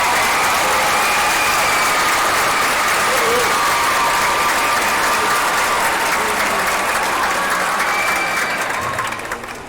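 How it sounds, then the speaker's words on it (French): A large crowd at a school gala applauds the evening's entertainment team, with steady dense clapping and cheering that holds loud for nearly ten seconds before starting to fade at the end. "Je pense qu'on peut donner une bonne main d'applaudissement à notre équipe d'animation de ce soir"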